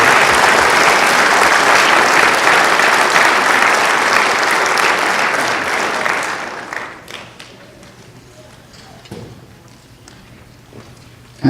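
A concert audience applauds a jazz band, a dense, loud wash of many hands clapping that holds steady for about six seconds, then thins out and dies away into quiet room noise with a few stray claps.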